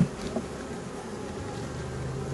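Honeybees swarm around a stacked multi-story beehive as a new box is added, a dense continuous buzzing drone close by with occasional louder passes of individual bees and no voices.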